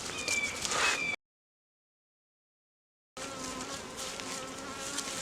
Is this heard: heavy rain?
no